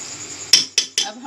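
Metal utensils clink against a pot three times in quick succession while mutton curry is served out, each a sharp, close scrape-and-knock over faint kitchen background.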